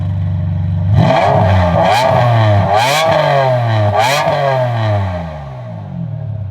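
Close, loud revving from a 1998 Ferrari 550 Maranello V12 running a Capristo exhaust with its valves open, several sharp throttle blips that swell and drop back, each with a raspy edge, before settling to idle.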